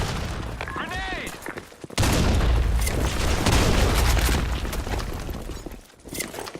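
A grenade blast in the shooter game BlackShot, a sudden loud boom followed by several seconds of dense rumbling gunfire and debris, with a brief drop before the noise resumes.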